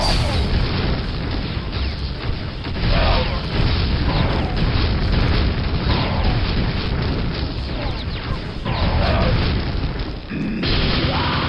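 Repeated heavy booming cannon shots from a flat, weird-looking gun in the Quake Mjolnir mod, loud and continuous over dense game combat noise with scattered bursts and impacts throughout.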